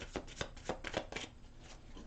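A deck of tarot cards being shuffled by hand during a Gemini reading, a run of quick riffling bursts and soft card slaps repeating in an uneven rhythm, close and fairly quiet with no talk.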